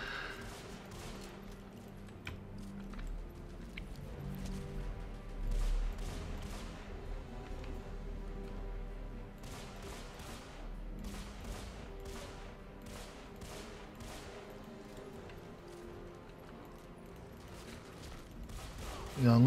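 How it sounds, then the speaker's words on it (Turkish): Gunfire from the video game Deadfall Adventures rattles in repeated bursts of sharp shots across a long stretch, mixed with game sounds and steady background music. "50 kurşun yağdırdık."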